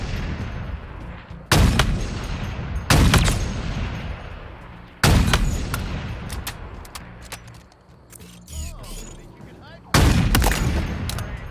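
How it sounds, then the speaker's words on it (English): Sniper rifle shots in Halo Infinite, five loud, sharp cracks spaced a second or more apart, each trailing off into a rumbling echo over quieter game ambience. "So 5 shots, and that's all I'm going to use the sniper for"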